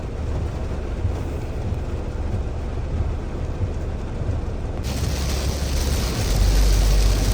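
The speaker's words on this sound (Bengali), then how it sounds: "বাইরে না ব্যাপক বৃষ্টি হচ্ছে বিশাল জোরে বৃষ্টি হচ্ছে" Heavy rain drums outside a moving Mahindra Thar Roxx, a dense roar mixed with low road and engine rumble that suddenly grows louder and brighter partway through, with no voices.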